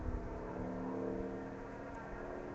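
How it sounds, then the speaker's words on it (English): A Ford Focus rally car approaches on a gravel rally stage, its engine a steady distant growl and whir that holds throughout without voices. "I hear an angry Focus coming,"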